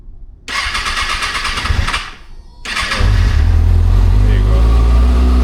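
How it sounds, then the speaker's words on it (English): A motorcycle engine cranks briefly, falters, then fires and catches into a loud, steady cold idle close by, with no talking over it. "So I'm just gonna start it up real quick."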